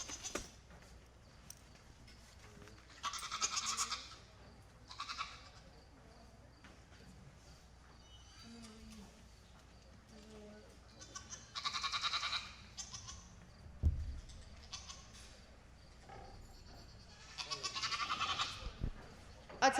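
Pygmy goats bleat in bursts from barns at a junior fair goat show, several calls spaced apart at moderate distance, with faint public-address announcements in the background.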